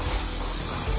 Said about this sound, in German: Im Prinzip ist das nur zum Sprühen.